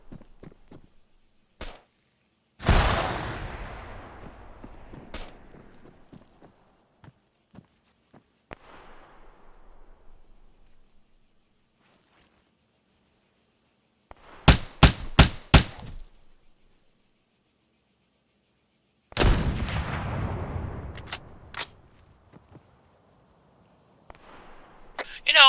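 Rifle fire in a multiplayer shooter game, using API rounds and 7.62 ammunition: sharp single cracks and a tight burst of several rapid shots, each with a long decaying tail, separated by quiet gaps.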